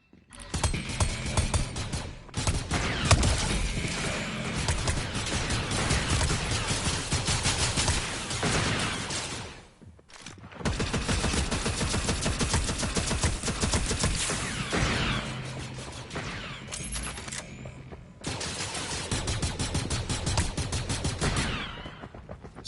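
Rapid rifle gunfire in a Fortnite Star Wars game session, dense bursts of shots with mechanical clatter filling most of the stretch, broken by two short pauses and ending in another sustained volley, loud and close.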